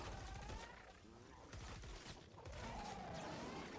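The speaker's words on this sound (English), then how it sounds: "Let's wake up this blaster. See how much damage we can do to this guy." Rapid bursts of gunfire from a modded Scar assault rifle in the video game Fortnite, sustained and fairly steady across the stretch with brief dips, mixed with game sound effects.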